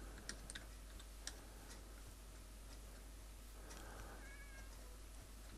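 A cat in a Minecraft village gives a couple of faint, short meows over a low steady background hum and scattered light ticks, with no one speaking.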